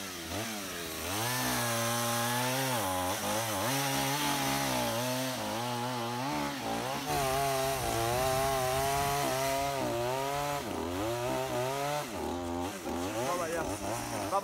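A chainsaw cuts eucalyptus trees on Rapa Nui, its engine revving up and down in repeated surges as the chain bites into wood, loud and close throughout.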